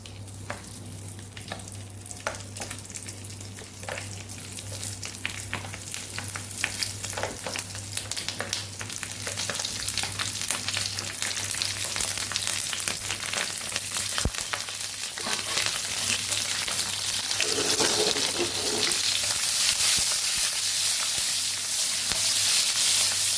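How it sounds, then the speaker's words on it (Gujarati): Green chillies sizzle and crackle steadily in hot oil with asafoetida for a long stretch, with occasional stirring scrapes and a constant low hum underneath. "અહીંયા આપણું તેલ ગરમ થઈ ગયું છે પાંચ ચમચી જેટલી હિંગ ઉમેરશું અને મરચાંને ઉમેરી દઈશું એમાં"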